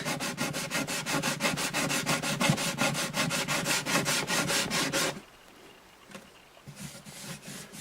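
Sandpaper is rubbed in fast, even back-and-forth strokes across the rosewood bridge of an Alvarez Artist AD65 acoustic guitar. The sanding is close and steady for about five seconds, then stops, leaving quieter handling noise.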